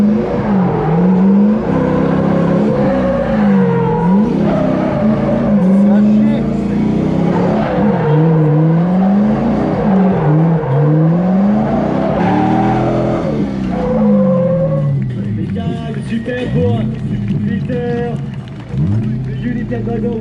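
A drift car runs hard at the Grand Prix de France circuit, its engine loud and continuous with rising and falling revs throughout, and people talk over it.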